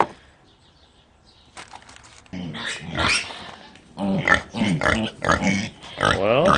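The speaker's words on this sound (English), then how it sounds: "Mama gets very upset whenever the piglets make noise" American Guinea Hog piglets squeal and grunt in loud, uneven bursts after a quiet start, with scuffling and rustling noise around them as they are handled.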